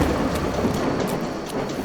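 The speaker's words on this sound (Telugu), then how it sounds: "భారీ వర్షం కూడా కురవడం మొదలైంది." Heavy rain from a thunderstorm in an animated cartoon pours down in a steady, dense hiss with no pauses and no voices.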